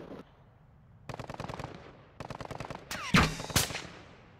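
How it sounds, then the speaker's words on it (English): Automatic gunfire in Call of Duty MW2 DMZ, three quick rattling bursts of rapid shots followed by a louder heavy blast and one final sharp crack, close and crisp with no talking. "Who just shot at me?"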